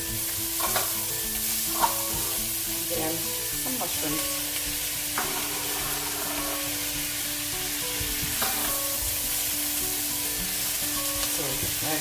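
Red and yellow peppers, green beans and mushrooms fry in a pan, with a continuous close sizzle broken by the scrape and clatter of stirring.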